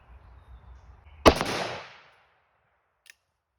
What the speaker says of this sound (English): Let's put some lead down there.